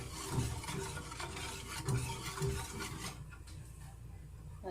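A gelatin mixture with mashed banana is stirred in a bowl, giving soft, close swishing and a few heavier thuds in the first few seconds, then fading to quiet.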